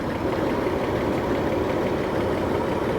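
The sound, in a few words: large tractor engine idling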